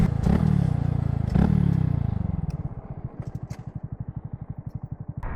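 Honda Grom motorcycle fitted with a cheap eBay exhaust passes by, two loud revving bursts near the mic, then the engine fades to a fast, pulsing idle-like putter as it moves off.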